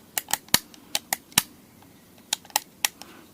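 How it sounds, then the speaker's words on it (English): The safety switch on a Popoman 4.5-inch mini cordless circular saw gives a string of sharp, close plastic clicks, about a dozen in irregular pairs and singles against a quiet background. "Got the little safety thing where you gotta pull it towards you, then activate that, and it's just like a little clicky."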